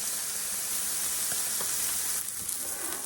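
A thin steak frying in a pan on a high stovetop setting, giving a steady, close sizzle with a few faint pops and no talk.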